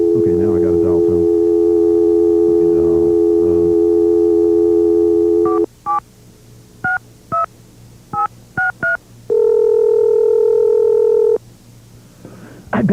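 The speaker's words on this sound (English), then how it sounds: "now I got to dial tone" A steady landline telephone dial tone hums for several seconds, then a quick series of touch-tone beeps is dialed, followed by another sustained tone and a click.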